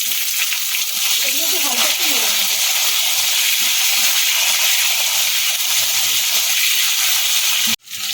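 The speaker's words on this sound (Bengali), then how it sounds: "ফোড়নটা ভাজা হয়ে গেছে প্রথমে এর মধ্যে দিয়ে দেবো কাঁচা কলা আর আলুটা" Raw banana and potato pieces fry in hot oil with a cumin and green chilli tempering, giving a loud, continuous bright hiss and sizzle up close that cuts off abruptly at the end.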